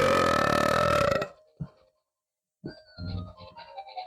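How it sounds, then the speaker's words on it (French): A long, loud, close burp rumbles for over a second, then there is a pause and some faint mouth sounds and movement follow. "c'est même pas un rot de confiance"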